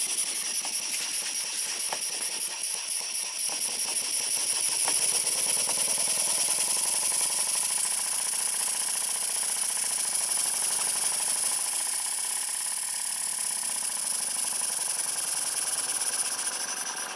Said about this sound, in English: That's the compressor making that noise.